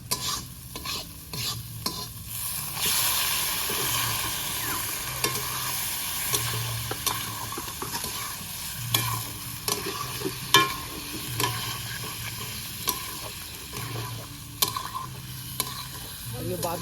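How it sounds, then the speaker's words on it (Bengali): Pork meat fries in oil over a cooked-down spice paste for a desi-style curry, with a constant close sizzle. Frequent stirring scrapes and clacks against the pot sound throughout, with no voices. "আমাদের মশলা কষানো হয়ে গেছে, তেল ছেড়ে গেছে, মাংসটা দিয়ে দেবো।"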